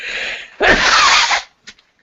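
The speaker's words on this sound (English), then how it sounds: "I need to sneeze just a second." One loud, close sneeze with a sharp intake breath before it, an explosive burst followed by a couple of faint small sounds afterward, recorded during a spoken lecture.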